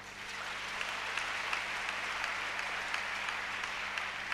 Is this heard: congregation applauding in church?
yes